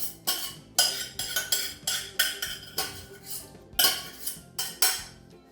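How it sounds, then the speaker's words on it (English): Cooked red quinoa tipped into a bowl of kale and stirred, with a utensil clinking and scraping against the bowl in a quick series of close, bright taps. "So I'm just going to dump that right into the bowl with the kale."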